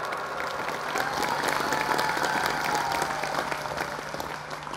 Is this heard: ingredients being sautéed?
no